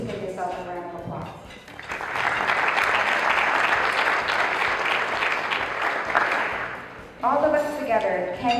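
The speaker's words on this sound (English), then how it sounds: "So please give yourself a round of applause." Audience at a Hispanic Heritage Month breakfast breaks into sustained, even applause lasting several seconds, framed by a speaker's voice before and after.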